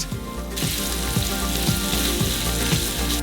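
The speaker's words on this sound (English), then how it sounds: "We put this on the stove and fry in a really high heat." Coarsely chopped lobster meat fries in a pan over really high heat, a loud, dense, continuous sizzle up close, with a soft rhythmic scrape of stirring repeating about every half second.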